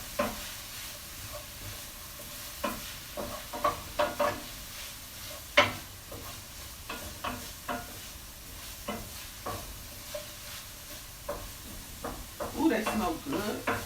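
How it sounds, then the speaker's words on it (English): Vegetables sautéing in a pan with a faint sizzle, punctuated by frequent short utensil scrapes and taps close by, while a person talks intermittently. "These veggies don't take long to saute at all."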